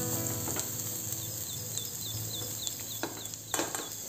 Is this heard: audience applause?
no